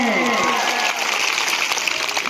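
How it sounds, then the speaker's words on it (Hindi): Schoolchildren at a Republic Day school assembly burst into loud applause, a dense, full clapping that follows a falling sustained tone at the start and stays strong throughout. "बच्चों बजाओ जोरदार तालियां"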